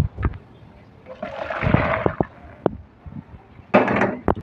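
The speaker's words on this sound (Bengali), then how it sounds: "এবার সয়াবিনগুলোকে ঢেলে নেব।" Boiled soybeans and their water are poured out, giving short gushing splashes with a swell in the middle and another burst near the end, with quiet gaps between.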